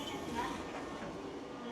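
Train near Kyoto heard from inside the carriage, a steady loud rumbling roar of the ride filling the moment, briefly broken by a faint high squeal, with no clear talk.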